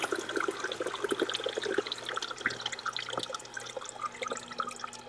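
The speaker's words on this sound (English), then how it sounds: "let it run through the spout here" Warm water pours from the spout of a Ninja SLUSHi Max, a faint continuous trickle and splash with scattered drips, running steadily without voices.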